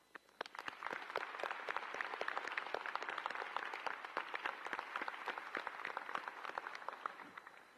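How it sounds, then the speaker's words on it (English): A commencement audience at a university's Asia campus applauds the graduating class, with crisp individual claps close by over a fuller crowd that swells quickly and tapers off near the end. "Let's take a moment and applaud this phenomenal class."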